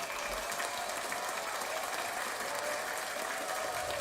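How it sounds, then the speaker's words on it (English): A live audience at a football recap show gives a continuous round of applause, a dense steady roar of clapping hands with no pauses, close and fairly loud throughout. "round of applause to you guys as well"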